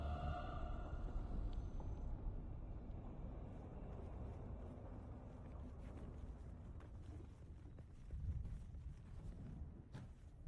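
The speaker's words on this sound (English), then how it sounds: "A large sandstorm is approaching." Sandstorm wind in the Dune: Awakening video game, a steady low roaring rush that fills the whole stretch with broad noise, swelling slightly near the end, with no talk over it.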